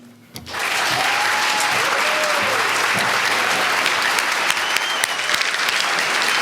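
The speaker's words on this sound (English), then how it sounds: "an extra round of applause for the Stanford Anselm Society students and Judy" A conference audience breaks into sustained applause at the closing session, loud, steady clapping that starts abruptly and continues at full strength.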